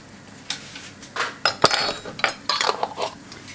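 A metal teaspoon stirring stock powder in a pot, scraping and clinking against the sides in a quick irregular series of sharp taps, close up and with no talking.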